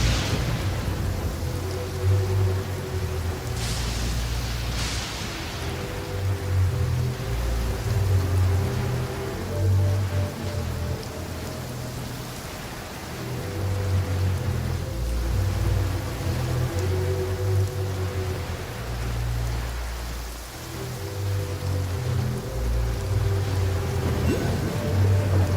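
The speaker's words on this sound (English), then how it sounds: "There is no purer form of water than rain." Steady rainfall in the video game Genshin Impact: a dense, continuous patter and wash of falling rain layered over low, pulsing ambient game music, even and fairly loud throughout.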